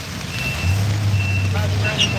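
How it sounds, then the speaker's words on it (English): A truck backs up on a busy Boston street on college move-in day, its reversing alarm beeping steadily over low engine rumble and city noise, with faint voices in the background. "There's a lot of trucks here."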